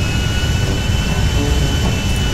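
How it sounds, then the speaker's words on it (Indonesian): Airplane jet engine in the GTA 5 video game, a loud steady roar with a low rumbling base and a high whine, constant throughout, no talking. "Ada pesawat."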